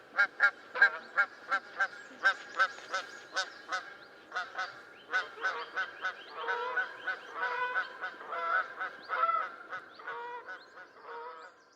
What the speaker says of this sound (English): Compared to the Canada goose's distinctive honk.